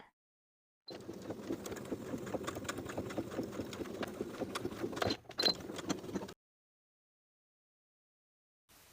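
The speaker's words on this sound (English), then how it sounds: "take it to your sewing machine and edge stitch along the opening to seal it shut" A sewing machine edge-stitches fabric in a fast, steady rhythmic stitch for about five seconds, pauses briefly, then stitches a bit more before stopping.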